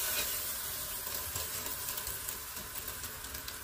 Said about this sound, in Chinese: 第一步是热锅凉油，将鸡蛋打散，下锅炸完后再盛出。